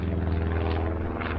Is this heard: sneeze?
no